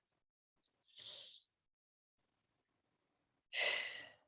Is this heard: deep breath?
yes